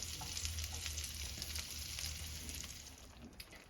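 Food frying in a pan on raised heat while being stirred, a close, continuous sizzle with scraping utensil strokes and a low hum underneath, no talking.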